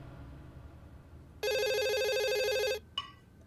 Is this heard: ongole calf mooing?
no